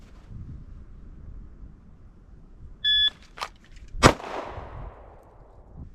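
A single sharp pistol shot cracks out loud and close after a drawn-from-concealment draw, preceded by a short electronic timer beep, with wind noise outdoors.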